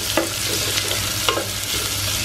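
Sliced onion sautés in a hot pan for sweet corn pulao, a loud, steady, close sizzle with a couple of brief stirring scrapes and no voices.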